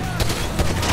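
Gunfire in Grand Theft Auto V from a first-person view, a loud close burst of several sharp shots in quick succession within a second, with a voice over it.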